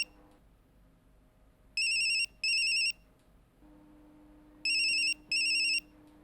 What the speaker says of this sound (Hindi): पार्थो का मोबाइल।